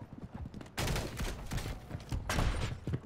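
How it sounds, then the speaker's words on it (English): Bursts of rapid gunfire from a Call of Duty Modern Warfare 3 Ground War match, quiet at first then a loud volley that fades and returns as another sharp burst. "Somebody was just shooting at me?"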